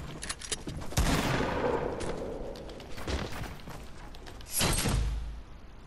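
Gunfire in the video game Fortnite: several sharp shots and bursts, with a loud crack near the start and another strong blast toward the end, fairly near and alone without talk.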